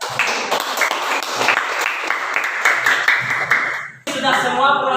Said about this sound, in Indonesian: Berikan tepuk tangan kepada kelompok 3 ya.